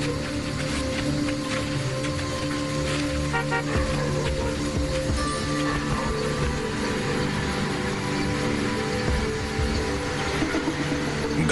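A vehicle on a road through wild lion country produces a steady, loud engine drone with a low tonal hum throughout, with no talking.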